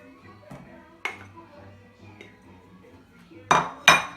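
A saucepan is handled in a kitchen while making gingerbread, giving a few sharp metallic clinks and knocks spaced over a few seconds, the loudest two near the end, with faint background sounds between.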